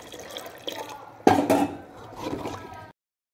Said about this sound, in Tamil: பருப்பு போட்டு அந்த புளி தண்ணி போட்டுக்கலாம்.